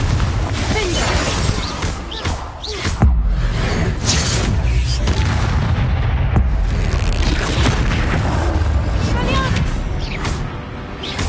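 Fiery blast spells burst repeatedly in the video game Hogwarts Legacy, with loud booming, crackling impacts and shattering debris over a steady game soundscape, while a player's voice talks over it.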